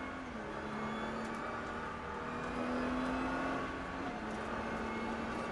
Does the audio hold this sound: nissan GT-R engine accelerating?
yes